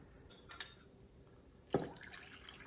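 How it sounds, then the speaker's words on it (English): Water poured into a homebrew makgeolli jar of Thai sticky rice, faint trickles and drips followed by a brighter splashing pour, soft and close. "I'm adding 800 milliliters of water to each jar"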